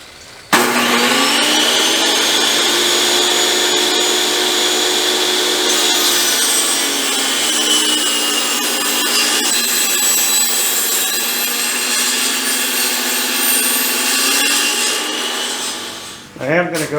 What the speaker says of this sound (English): I'm gonna go ahead and split this last board I got